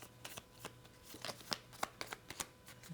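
Dungeon cards from a pocket-sized card game are shuffled by hand, giving faint, soft riffling and a scattered run of light slapping clicks at close range.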